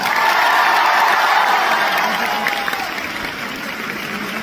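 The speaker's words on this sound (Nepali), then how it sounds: "हामी सबैजनालाई ताली बजाइदिउँ एकपल्ट" An audience claps together at a worship concert, a dense wash of applause that holds strong and then gradually thins and fades toward the end.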